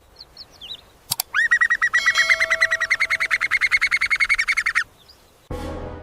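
Rapid, rhythmic series of high bird chirps repeated evenly for several seconds, loud and close, in an African savannah setting, preceded by a brief sharp click and followed by a burst of rustling noise.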